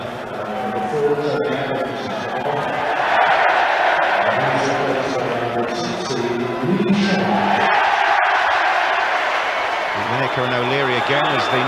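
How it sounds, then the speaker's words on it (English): Crowd of 80,000 at Wembley stadium cheering and roaring at an England football match, a sustained loud swell of voices and whoops throughout, with a commentator talking over the noise. "news of the substitution is greeted quite enthusiastically by the Wembley crowd"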